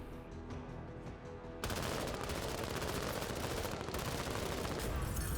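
Rapid, sustained automatic gunfire from the Menace video game, starting after a brief quieter stretch and then firing loud and dense without pause to the end.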